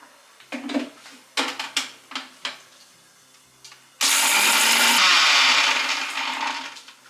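A kitchen mixer grinder crushes roasted spices in several short pulsed bursts, then runs in one loud continuous grinding whir for about three seconds before winding down.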